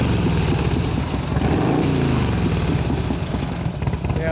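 A 2004 Harley-Davidson FLHT touring motorcycle with a Twin Cam 88 engine idles loudly and close by, its lumpy, steady beat mixed with a constant mechanical rattling from loose parts on the bike.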